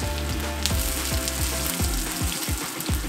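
Sliced ginger dropped into hot oil in a home kitchen wok or pan sizzles loudly and steadily, with a constant close frying hiss and some faint clinks from the pan.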